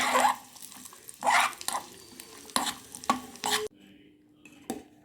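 A spoon stirs rice frying in ghee in a pan for a jaggery rice pudding, scraping in repeated bursts over a soft sizzle before the stirring stops and the pan goes quiet.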